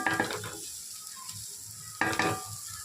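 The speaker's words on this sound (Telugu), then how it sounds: "పచ్చిమిర్చి ఆయిల్లోనే కొంచెం ఫ్రై అవ్వాలన్నమాట" Green chillies fry in oil in a pan for a bottle gourd and fish curry, giving a soft steady sizzle broken by two brief bursts of stirring and scraping.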